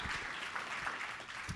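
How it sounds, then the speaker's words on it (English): Audience applause at an IEEE security conference plenary session honouring Test of Time award winners, a steady burst of clapping from a large hall, fairly distant and even throughout. "let's have a round of applause for all of our Test of Time awardees."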